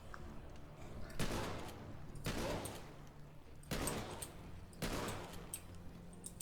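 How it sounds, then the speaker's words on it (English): Four heavy grenade blasts go off about a second apart in The Walking Dead Survival Instinct video game, each a broad, booming burst that rolls off quickly, with game ambience between. "it's a good idea to have brought grenades. So I'm gonna fucking use a few."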